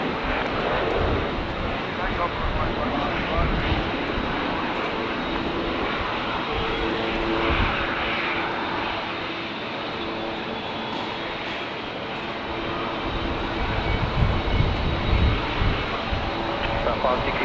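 Airliner taking off from runway 19 left at Brisbane Airport, a sustained engine roar that builds toward the end, heard from a distance in gusty wind while air traffic control radio talk runs underneath.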